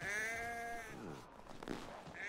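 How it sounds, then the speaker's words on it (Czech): Sheep in Assassin's Creed 3 give a long, wavering bleat, then a second bleat begins at the very end, both close and clear. "Ovečky"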